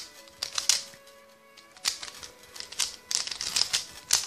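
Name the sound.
scrambling a 3x3 Rubik's cube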